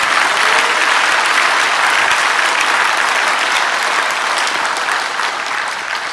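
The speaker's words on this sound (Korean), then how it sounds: "하나님께 감사와 영광의 박수 올려드리는 시간 됐으면 좋겠습니다" A large congregation at a nationwide pastors' and elders' prayer meeting applauds in a church hall, a dense, steady wash of clapping that holds for several seconds before easing slightly.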